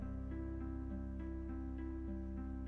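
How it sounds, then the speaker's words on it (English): Regular harp voice on a keyboard set to 68 beats per minute plays a quiet, even, repeating plucked arpeggio pattern with sustained tones, heard alone. "just a regular harp sounds like this."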